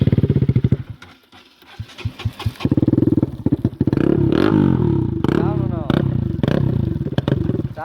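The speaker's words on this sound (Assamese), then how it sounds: "বাইকখনৰ চাউণ্ডটো শুনিব দেই" A sport motorcycle engine runs close by, starting with rapid pulsing idle, then revving up into a loud, sustained roar with throttle blips; a voice speaks briefly at the start.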